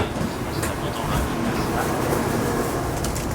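Riding inside a Shinkansen bullet train gives a steady, enveloping rumble and rush of the carriage in motion. Faint murmurs rise and fall over the constant noise.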